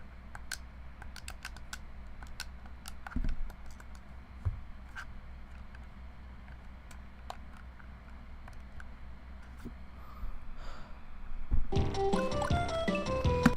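Computer keyboard keys are pressed while a Kaizo hack game is played. Sparse, light clicks come at irregular intervals, and bright tonal game sounds swell in near the end.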